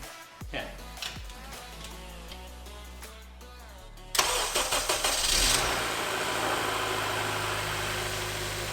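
An Acura TSX engine swapped into a Honda Accord and running on an Accord ECU cranks briefly and catches, settling into a steady, loud idle after some clicks and shuffling, with faint voices in the background.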